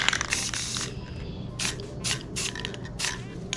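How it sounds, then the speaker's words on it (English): Bursts from a spray paint can hiss in short pulses, several in a row with brief pauses, close and fairly loud over a low background hum. "And spray right there."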